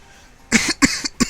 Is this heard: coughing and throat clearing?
yes